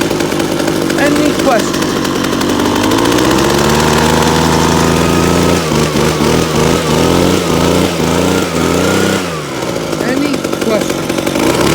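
A Baja mini bike engine runs rough and loud at close range, its revs rising and falling in uneven surges before settling toward an idle, with someone talking over it.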